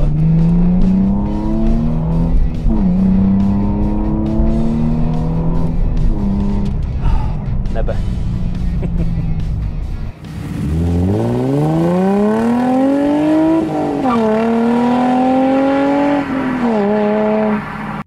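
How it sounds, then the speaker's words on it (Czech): A sports car engine revs hard, pitch sweeping up and down through gear changes, then a downshift and another loud rising roar, close and sustained. "motor má charakteristický, naprosto fantastický zvuk, takže není problém si podřadit a užít si něco takového"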